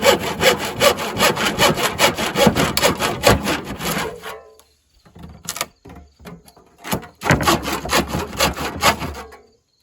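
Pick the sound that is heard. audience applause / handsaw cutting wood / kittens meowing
handsaw cutting wood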